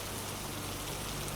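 Steady rain falling on a surface, a constant even hiss with a low hum underneath, close and uniform with no voices.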